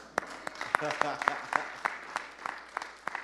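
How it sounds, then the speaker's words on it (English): A small audience at an alumni awards event and roundtable gives scattered, sparse applause, with individual sharp claps spaced irregularly and a voice speaking over them. "I was just about to do a big round of applause"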